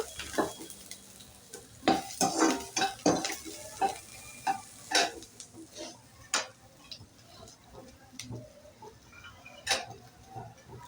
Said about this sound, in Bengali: এরকমভাবে ক্যাপসিকাম আর পেঁয়াজটাকে ভেজে নিলাম